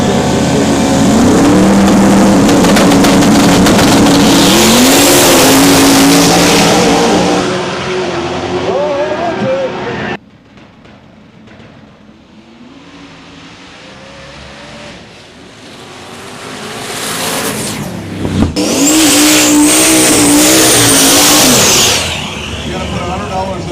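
Mazda Miata race car fitted with a 427 LS V8 roars loudly at close range, engine pitch rising and falling through revs, then drops away to a distant rumble before another hard, loud pass returns near the end.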